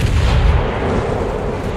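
A cannon salvo from a warship in World of Warships, fired broadside by the cruiser Belfast: a single loud, close boom rolling off into a low, sustained rumble with no talk over it.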